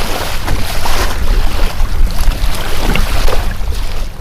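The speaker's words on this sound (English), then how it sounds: "The waves are starting to stand up." Waves slapping on open water while kayaking toward Chokoloskee in Everglades National Park, a loud, continuous wash and splash with wind rush, close to the boat, without talk.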